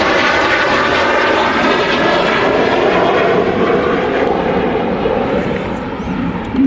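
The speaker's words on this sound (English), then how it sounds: "There we go, Sun Express 737-800 off to Antalya." Sun Express Boeing 737-800 airliner taking off from Manchester Airport toward Antalya: a loud, sustained broadband jet roar, close and steady, fading only slightly at the end.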